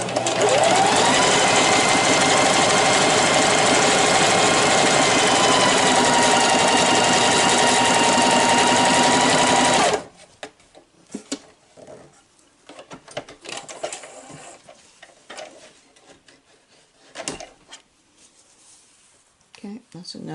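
A Singer 4423 sewing machine stitches denim in a loud, steady mechanical whir lasting about ten seconds, then stops abruptly, leaving faint handling clicks and rustles.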